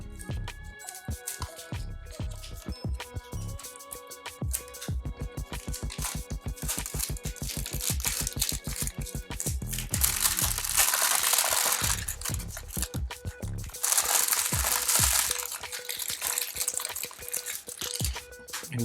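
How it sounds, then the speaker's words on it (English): Plastic wrap peeled off a Huawei Y9 2019 phone box: a long run of close, crackly tearing and rustling, quiet and continuous, growing into denser hissy crinkling toward the end, with no talking. "Now we'll just peel off the plastic."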